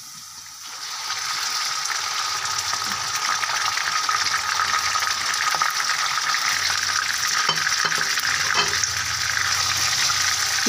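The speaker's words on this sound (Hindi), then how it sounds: "इस मगज को हम घी में 5 मिनट नॉर्मल आंच पे फ्राई करेंगे।" Beef brain frying in ghee with browned onions sets off a loud, dense, steady sizzle that jumps up after about a second and holds evenly close by, with a faint bubbling undertone.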